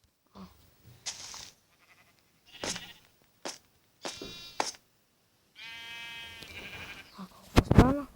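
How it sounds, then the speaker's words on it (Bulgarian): Several sheep bleat in bursts, some long and wavering, separated by short quiet gaps, with a louder, sharper call at the end. "вижте само колко овце"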